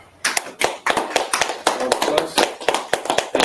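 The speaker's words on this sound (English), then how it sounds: "All right, clap it up." A small group claps together in a class or rehearsal setting, a run of sharp, close hand claps in uneven bursts over about three seconds, with a voice faintly present.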